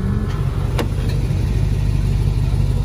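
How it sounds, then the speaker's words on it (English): A Lexus GX470 on 35-inch tires runs its air suspension compressor, a steady, continuous mechanical hum and drone close by with no talking. "You hear the compressor still going."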